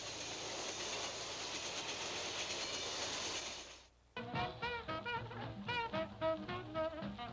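A streamlined passenger train running on rails eastbound to Chicago from Des Moines, Iowa: a steady rushing roar and hiss of cars passing close, then rhythmic clickety-clack of wheels over rail joints as the sound shifts.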